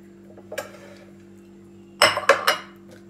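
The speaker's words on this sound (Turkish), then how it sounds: "şöyle şunu ezmeye çalışayım ama bu böyle biraz yağlı peynir olduğu için" Oily cheese is mashed in a dish while making oven-baked pasta, giving a soft clink near the start and then a quick cluster of three or four sharp utensil taps against the dish, close up in a quiet kitchen.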